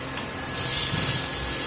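Potato pieces fry in hot oil with salt and turmeric, giving a close, steady sizzling hiss that swells after a quieter start and then holds.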